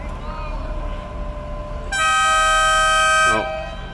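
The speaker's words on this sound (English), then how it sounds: "Oh, there's the hooter." A match hooter at an over-65 men's masters field hockey game, Ireland v Wales at the European Cup in Valencia, Spain, gives one loud, sustained, bright blast of about a second and a half that stands well above the steady background hum.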